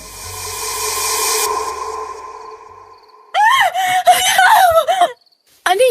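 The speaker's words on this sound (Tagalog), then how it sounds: "isang nakakabinging sigaw ang umalingaw-ngaw sa buong" A deafening woman's scream echoes through a house in a horror story: a long shrill drone first, then loud, wavering, close screams in several bursts with brief gaps.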